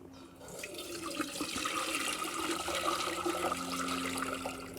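Mordant liquid being poured into a glass jar for solar silk dyeing, a steady splashing, gurgling pour that runs continuously for several seconds at moderate loudness, with no talking.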